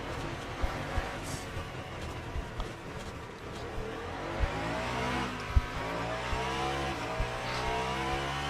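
A hypercar's engine drones and shifts pitch through rising and falling revs in the racing sim Le Mans Ultimate, with occasional sharp clicks and tyre noise over a steady rumble, no talk.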